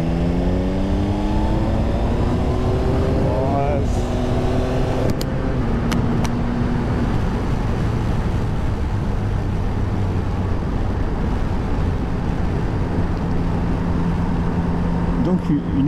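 Yamaha Tracer 9 GT motorcycle engine pulling through a roundabout in fourth gear from about 30, a steady rising drone with harmonics climbing as it reaccelerates, loud and close with wind rush, a rider talking over it.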